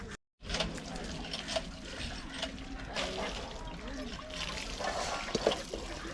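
Water splashes and trickles from a village hand pump where children wash dishes, a steady close pattering with occasional creaks, under ongoing conversation.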